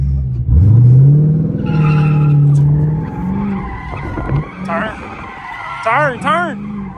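A Chrysler 300 with a 3.09 limited-slip differential slides with loud, close tire squeals that rise and waver over a rumbling engine, followed by shorter squeals and wavering tones near the end as voices are heard alongside.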